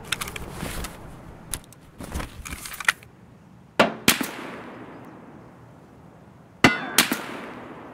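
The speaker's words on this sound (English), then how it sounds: "way down the road, I have a USEC, and he's shooting at us with an SKS." SKS rifle gunfire from a distant shooter in the video game Escape From Tarkov comes as sharp isolated cracks and clanging reports spread irregularly across a quiet background, some doubled in quick pairs.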